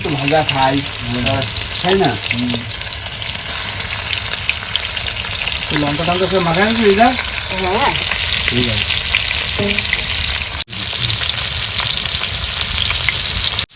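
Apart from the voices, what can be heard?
fish frying in hot oil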